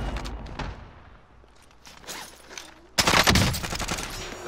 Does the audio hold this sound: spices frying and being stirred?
no